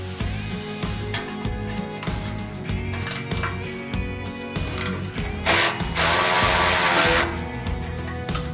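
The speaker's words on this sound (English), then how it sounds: "the first thing you're going to do is loosen the factory clamp" Ratchet wrench clicking steadily as it loosens the factory exhaust clamp on a 2018-2022 Jeep during an axle-back exhaust install, close and continuous mechanical clicks with a brief louder burst near the end.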